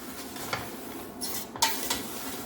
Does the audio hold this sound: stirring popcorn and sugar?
yes